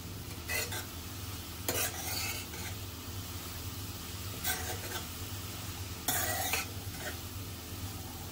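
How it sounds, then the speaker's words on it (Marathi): Carrots sauté in ghee, a low steady sizzle broken by several sharp bursts of stirring and scraping in the pan at irregular intervals, close by and fairly quiet. "अगदी 2 मिनिटं आपण परतून घेऊया तुपावरती।"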